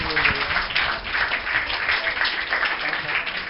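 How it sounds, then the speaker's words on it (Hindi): Audience applause at a summer camp prize distribution, a steady dense patter of many hands clapping throughout, fairly loud and continuous with faint voices underneath. "तो ये आप लोग भी अपने लिए एक बार ताली बजा लीजिए।"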